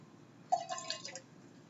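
A small amount of water pours into a glass used for cut flowers, a brief close trickle with a short rising fill tone and a few drips in a quiet room.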